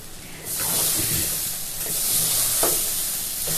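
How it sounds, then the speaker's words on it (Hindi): Rice roasts in a pan before water is added, giving a continuous close sizzling hiss with a few scraping stirs of a spoon, with no voices. "अब मैं इसे 2 मिनट इस चावल को भून लूंगी"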